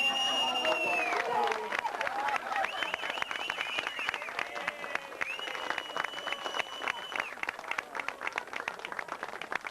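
Guests applauding at a 1982 retirement party in Coon Rapids, a dense patter of clapping with scattered cheers, spread through a room and fairly faint, mixed with crowd murmur and a ringing tonal sound.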